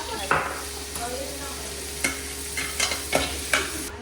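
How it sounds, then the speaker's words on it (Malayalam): Onions sauté in a kadai with sizzling oil, broken by several sharp scrapes and clinks as a spoon stirs them, close up with no voices. "ഇത് നമുക്ക് വഴറ്റാൻ വേണ്ടിയിട്ട് ജസ്റ്റ് നമ്മൾ ഉള്ളി വന്നിട്ട് ശരിക്കും വാട്ടുക."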